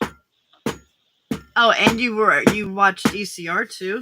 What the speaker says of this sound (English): Sorry for the banging noises. Trying to get all the dust off of the book.